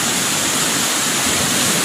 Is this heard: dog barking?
no